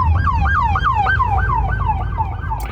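A police car siren wails in a steady rise-and-fall cycle, loud and close behind a moving car, over a constant low road rumble.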